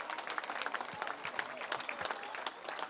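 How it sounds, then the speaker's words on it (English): Crowd applause at a Little League baseball game, scattered outdoor clapping from a modest gathering, moderately distant and continuous for a few seconds. "So let's give Pizza Bella a round of applause."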